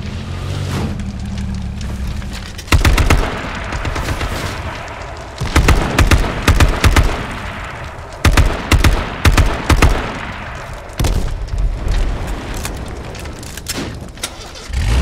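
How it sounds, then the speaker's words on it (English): Gunfire and grenade explosions in a battle royale video game: a low rumble gives way to loud bursts of rapid shots and booming blasts in repeated clusters, close and punchy, with no talking. "Somebody's throwing grenades at me from up there"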